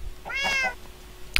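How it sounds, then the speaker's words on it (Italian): A cat meows once in the video game Minecraft, a clear, fairly loud mewing call standing alone, followed by a short sharp click near the end. "Il mio gatto rosso."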